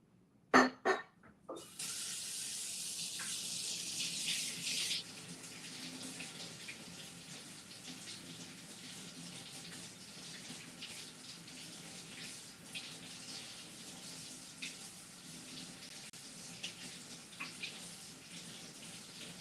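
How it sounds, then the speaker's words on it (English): Tap water runs steadily over ceramic balls to rinse soil off them during a monstera repotting. A few clinks and knocks come first, then the stream gushes alone and continuous at close range. "I do need to rinse this as well because now it's got a little soil in it."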